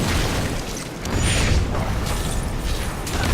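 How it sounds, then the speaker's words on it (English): A fort crumbles in Heroes of the Storm, with Sgt. Hammer's siege tank nearby. The collapse comes through as a dense mechanical rumble and a deep boom, steady and fairly loud over a continuous layer of game noise. "Fort destroyed"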